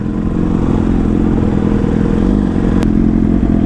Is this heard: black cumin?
no